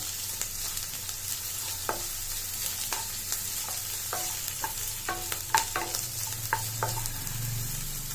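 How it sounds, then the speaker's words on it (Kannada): Onions frying in a pan on the way to browning for a mint chicken masala gravy, a steady soft sizzle beneath repeated scraping strokes and taps of a spoon stirring through them. "ಚೆನ್ನಾಗಿ ಫ್ರೈ ಮಾಡ್ಕೊಳ್ಳಿ"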